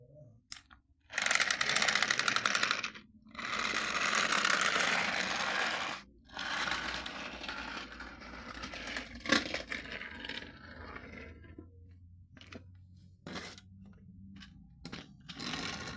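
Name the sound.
Trackmaster motorized Percy toy train running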